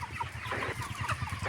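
Broiler chickens on a poultry farm clucking in quick, low, overlapping bursts, close and busy for a moment, with no talk.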